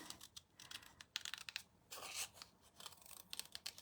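Scissors snip close up in quick irregular bursts, cutting heat-embossed card around a stencil design to make a faux metal frame, with short crisp slices and brief pauses between cuts.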